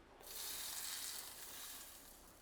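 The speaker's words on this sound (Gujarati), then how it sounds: "હવે આપણે તેલ ઉમેરવાનું છે, પણ તેલ સરસ ગરમ ઉમેરવાનું છે." Hot oil poured into methi gota batter of fenugreek-leaf fritter mix sets off a loud, bright sizzle that rises quickly and then hisses steadily on its own, with no talking.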